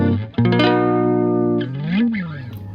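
A distorted electric guitar chord through a stock iZotope amp simulator with no other effects rings out and sustains, then a bending note slides up and fades, with a thick amplified tone.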